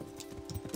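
Horse hooves clip-clopping as a mount arrives in the medieval role-playing video game Kingdom Come: Deliverance, a short, soft run of hoof beats over a steady low hum.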